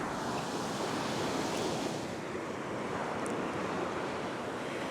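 Surf breaks steadily along a beach near a deep gutter where someone is fishing, a continuous loud wash of white water with wind noise over it.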